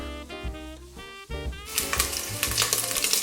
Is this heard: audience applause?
no